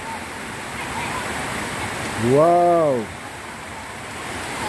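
Heavy rain pours and water runs through a street in Suriname, a steady broad wash of noise throughout, while a voice briefly exclaims over it.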